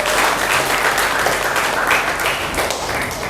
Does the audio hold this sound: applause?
yes